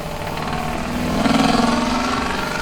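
A 1967 Chevrolet Camaro Z28 with a high-revving small-block V8, high-compression pistons, a high-lift cam and an 800 CFM Holley carburetor runs loud and close, its dense engine drone swelling as the revs rise partway through.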